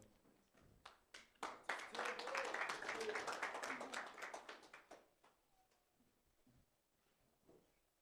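An audience at a university competition ceremony applauds: scattered claps swell into steady, fairly loud clapping for several seconds, then thin out to a few faint claps and fade.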